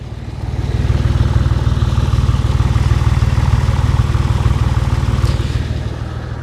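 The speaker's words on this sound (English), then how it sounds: "Let's go check out how the exhaust should sound." A Porsche 911 exhaust idles close up, a steady low pulsing rumble that stays even throughout, with no metal rattle and no voices.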